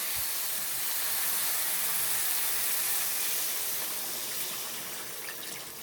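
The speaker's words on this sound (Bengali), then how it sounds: "এবার আমি একটু জল দিয়ে দেবো" Water poured into a hot pan of spiced egg curry masala gives a steady, loud hiss and rushing pour that runs for several seconds before easing off slightly toward the end.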